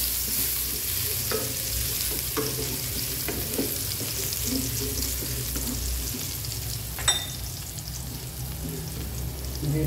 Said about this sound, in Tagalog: Siyempre una, igisa natin ang bawang.